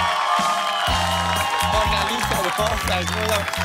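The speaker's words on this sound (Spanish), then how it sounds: "Un fuerte aplauso para los Resillas." A studio audience at a televised family game show applauds, its steady wash of clapping blended with cheering and loud upbeat music playing throughout.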